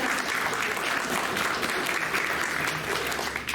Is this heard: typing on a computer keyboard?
no